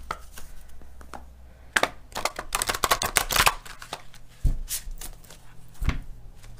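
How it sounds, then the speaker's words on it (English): Tarot cards being shuffled up close, a run of rapid riffling bursts with a few sharper slaps and pauses between them, no voices. "we'll do one more shuffle on them and then we'll cut the deck"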